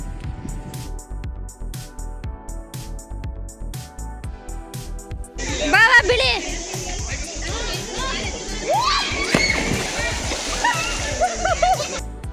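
Water splashes in a resort swimming pool as a family swims and jumps in. Soft lapping comes first, then louder splashing with children's voices and chatter, and people talk over the scene.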